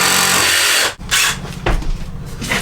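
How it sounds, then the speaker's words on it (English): A jigsaw fitted with a metal-cutting blade saws through a plastic sheet for a camper van shower build, a loud close buzzing rasp that stops briefly and then restarts. "I'll use this metal jigsaw blade rather than the coarse wood one because it just broke the plastic."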